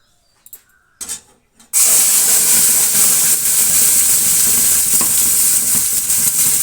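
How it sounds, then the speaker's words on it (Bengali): Ground paste tipped from a mixer jar into hot oil for a taro dish erupts into a loud, steady sizzle after a few brief clunks, hissing continuously to the end. "এবার তেলের মধ্যে মিক্সার থেকে ঢেলে দিই"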